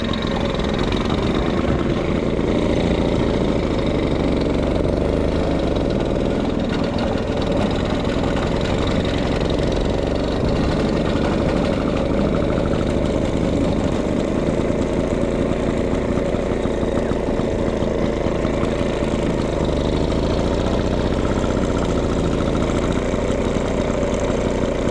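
A vintage Royal Enfield motorcycle engine idles steadily and loudly up close, a continuous low mechanical rumble with a faint knocking texture and no talk over it, at a vintage motorcycle ride event.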